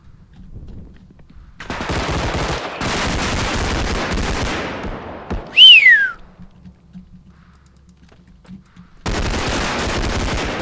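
Automatic gunfire in a zombie shooter video game, two dense rapid bursts, a sharp whistling zip in between, then a lull with a low hum before another burst of shots.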